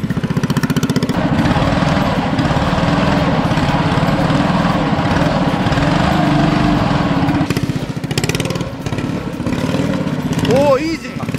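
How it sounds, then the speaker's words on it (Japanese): Drift kart engine, freshly engine-swapped, revving loudly at a circuit under steady throttle, a continuous buzzing drone close by with people talking over it throughout. "アクセル音、もっとアクセル音。"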